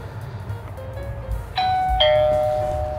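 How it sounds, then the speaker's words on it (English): A video doorbell's outdoor unit sounds a clear two-tone chime close by, two bright ringing notes about half a second apart that ring on and decay over faint background hum. "Looks like the chime's working on the outside."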